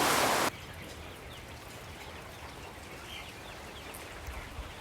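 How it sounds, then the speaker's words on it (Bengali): Light drizzling rain falls as a soft, steady patter outdoors at a poultry farm, faint and continuous after a brief louder burst at the start. "গুড়ি গুড়ি বৃষ্টি পড়তেছে"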